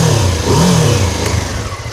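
A BMW F450 GS motorcycle exhaust revs up and falls back, the engine note rising and dropping once over a steady idle, close and loud with no talking.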